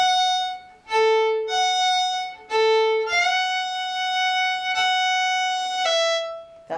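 A fiddle plays the first phrase of the B part of the Irish tune "The Little Burnt Potato", bowing clear sustained notes that rock back and forth between two pitches, solo and close.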